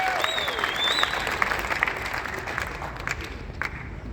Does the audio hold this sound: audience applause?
yes